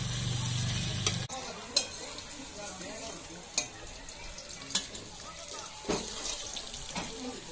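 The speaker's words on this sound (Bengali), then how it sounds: "এইবার আলুগুলোকে ভালোভাবে ভেজে নেব" Medium-sized potato pieces with salt and turmeric fry in a pan with a soft, steady sizzle, punctuated by several sharp knocks and scrapes of the stirring spoon after a brief low hum at the start.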